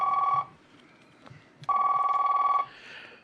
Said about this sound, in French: il faut que je donne un coup de téléphone